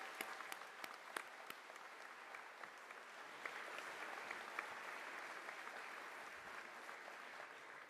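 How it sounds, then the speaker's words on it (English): A school audience applauds at a fifth grade celebration, a steady mid-distance wash of many hands clapping that holds evenly for several seconds, with a few sharper claps standing out near the start. "So big round of applause for everybody involved."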